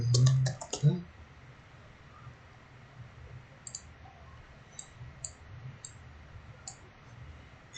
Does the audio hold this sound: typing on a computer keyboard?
yes